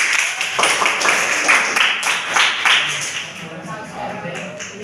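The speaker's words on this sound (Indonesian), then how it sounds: "Tepuk tangan dulu teman-teman" Classroom of students clapping on a teacher's cue, several quick bursts of hand claps over a few seconds, mixed with talk and fading toward the end.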